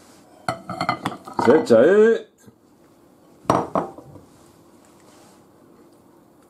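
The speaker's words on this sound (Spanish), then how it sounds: "ahora vamos a mezclar el moje murciano, o sea, la ensaladita" Utensils clatter and scrape against a bowl while moje murciano salad with onion is mixed, in a brief burst of clinks followed by a second short clatter, with a person speaking briefly.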